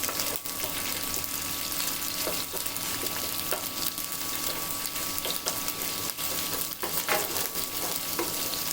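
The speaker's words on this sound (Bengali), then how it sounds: "এই আদা রসুনটাও 2 মিনিটের মতন ভেজে নিব, যাতে কাঁচা স্মেলটা চলে যায়।" Ginger and garlic frying in oil in a pot for beef biryani, giving a constant close sizzle with intermittent scraping and tapping as they are stirred.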